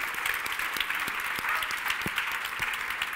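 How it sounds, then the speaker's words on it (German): A live audience at a talk on successful women applauds steadily, a dense, even patter of many hands clapping close by that continues for the whole stretch without speech. "dass ihr dafür einen Applaus gegeben habt"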